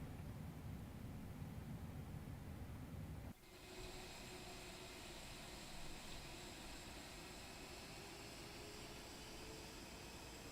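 An FSLabs A320 airliner takes off in a flight simulator on the Heraklion runway, a steady broadband jet engine roar that drops sharply after a few seconds into a lower, even rushing hum with faint whines, continuous and alone.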